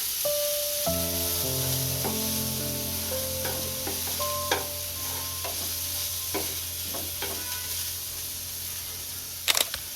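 Green chilies drop into oil with onions that have already softened, for a yogurt okra curry, and a continuous, close frying sizzle follows, broken by a few sharp clicks and clinks.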